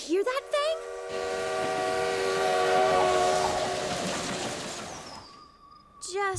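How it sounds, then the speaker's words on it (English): A long, eerie steam-style train whistle from a cartoon, sustained and wavering, with a short whistle burst before it and a brief hoot again at the end. "did you hear that spooky train whistle this morning?"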